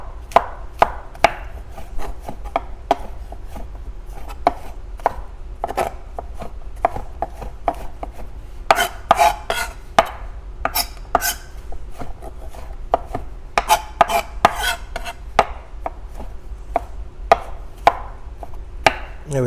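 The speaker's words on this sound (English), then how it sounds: "I'm going to run my knife through these mushrooms, and I want fairly small pieces" A knife chops mushrooms into fairly small pieces on a cutting board, a run of close, crisp, irregular taps that come quicker and denser in bursts midway, with no talking.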